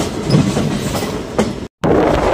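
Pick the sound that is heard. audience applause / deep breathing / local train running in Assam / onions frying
local train running in Assam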